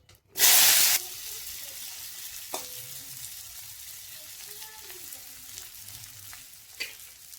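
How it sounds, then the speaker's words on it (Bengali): Whole potatoes drop into hot oil with a loud burst of sizzling, then settle into a steady, quieter frying hiss with faint stirring clinks. "পুরা আলুগুলো ভেজে নেব।"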